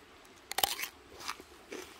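A close, crisp crunch as a raw radish with a little salt is bitten, followed by a few quieter crunchy chews.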